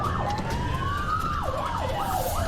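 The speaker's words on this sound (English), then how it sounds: "use your sirens as well" A wailing ambulance siren rises and falls in repeated sweeping cycles over a steady road hum, heard from close by inside or beside the moving emergency vehicle.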